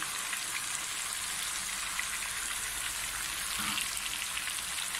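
Ground coriander and other spices fry in hot oil for chicken kabsa, a steady, fine crackling sizzle that holds evenly throughout, with a brief low stir partway.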